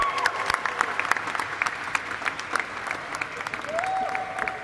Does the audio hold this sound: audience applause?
yes